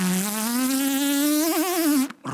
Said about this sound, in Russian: Рой пчел реальный.